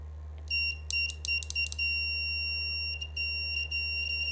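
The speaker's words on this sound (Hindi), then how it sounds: "मैं कहीं भी इसे मूव कराऊंगी तो ये बजर आपका, ठीक है, बजर आपका वर्क करेगा." A wireless doorbell buzzer built as a robotics activity gives a quick run of sharp, high electronic beeps, then a few fainter spaced beeps over a constant low hum. Close by, with no speech.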